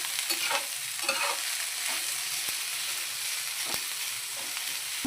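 Cumin seeds and bay leaf dry-roasting in a pan for a Maharashtrian dubuk vada curry: a soft continuous sizzle and crackle with faint scraping stirs, close and fairly quiet, with no talk.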